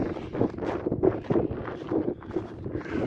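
Wind buffets a microphone outdoors on a cold-climate grazing pasture, a steady rumbling roar with gusty swells throughout, loud and close, with no voices.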